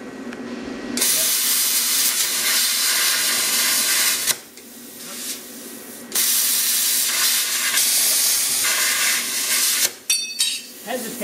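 A metal cut with compressed air cooling the tip produces loud bursts of roaring hiss that start and stop several times, separated by short quieter gaps with faint clinks.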